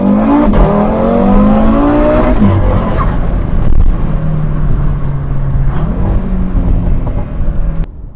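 An Audi RS3 engine revs hard and loud, pitch climbing through gear changes as it accelerates, with a brief shift drop midway and a clean stop.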